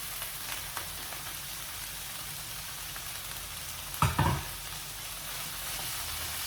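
Broccoli hits hot oil in a pan for a stir-fry with canned tuna, giving a steady close sizzle with one sharp louder burst of crackling partway through, no voices.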